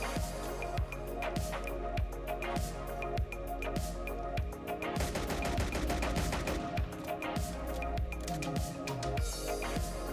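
Rapid full-auto pistol fire from a modded Call of Duty Modern Warfare 2 weapon in ARK Survival Ascended, a dense, loud stream of gunshots with short breaks, continuous over game sound.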